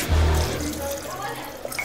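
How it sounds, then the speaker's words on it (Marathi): Water poured from a glass into a pressure cooker over sautéed vegetables for pav bhaji: a heavy splash at the start, then a lighter trickle and sloshing, close by. "आता आपण त्यात पाणी ओतूया।"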